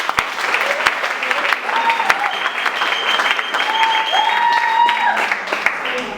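Guests at a civil wedding ceremony applauding, a loud, steady round of clapping from a crowd that continues through the whole stretch, with faint voices mixed in.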